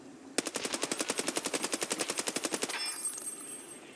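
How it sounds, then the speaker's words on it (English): Gun test fired on full auto in the video game Escape From Tarkov: a rapid, evenly spaced burst of about twenty shots lasting a little over two seconds, then a brief ringing tail, heard alone. "We can test fire the weapons. And then if you hit B, you'll go to full auto if the weapon is capable of it."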